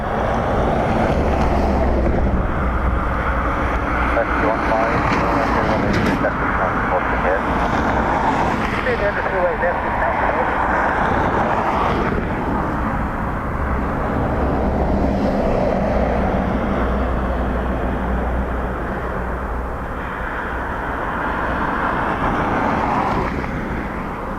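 Airliners arriving at Dublin Airport on a windy day, a broad steady engine roar with wind buffeting the microphone throughout, low rumble underneath and a busy road nearby.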